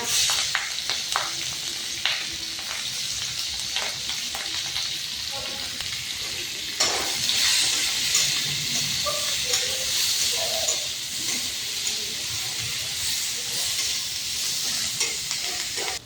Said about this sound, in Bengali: ডিম ভাজার তেলে এখন কারি পাতা ফোড়ন দিলাম, কাঁচা লঙ্কা